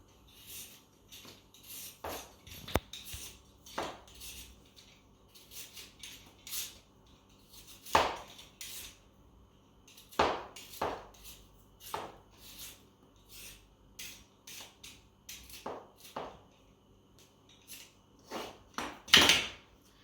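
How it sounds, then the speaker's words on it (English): Peeling and cutting a potato for boiling in a home kitchen, with irregular knife scrapes and sharp taps on a board, scattered over quiet gaps, close and without talk. "So I'm going to start by peeling and cutting my potato for boiling."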